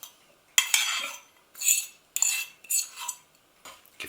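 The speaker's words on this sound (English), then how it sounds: "Going to add the grated sweet potato. Give it a stir." Spoon scraping and clinking in a bowl as grated sweet potato and kidney beans are stirred for vegan burger patties, several short bursts of clatter with brief pauses between, close and fairly clear.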